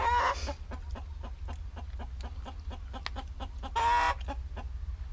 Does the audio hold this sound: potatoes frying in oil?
no